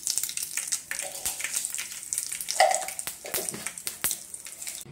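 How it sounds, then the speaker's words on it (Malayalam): Mustard seeds sizzling and popping in hot coconut oil in a pan, a soft, continuous close-up fry with scattered crackles and no voices. "നമുക്ക് സ്വല്പം കടുകിട്ട് കൊടുക്കാം."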